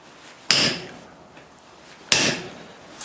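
A hammer strikes an S7 chisel into hot steel while forging bolt jaw tongs: two sharp, loud metallic blows about one and a half seconds apart, each ringing briefly before fading.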